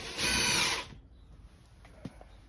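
A power drill drives screws to hold a window in place during a 1974 Jayco camper rebuild. It gives one short, loud whirring burst, then stops, leaving quiet workshop noise with a small knock.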